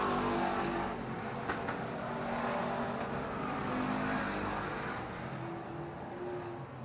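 Race cars circle Silver Dollar Speedway during a fair race, a steady dense roar of several engines blending into one continuous wash, with no clear single pass-by standing out.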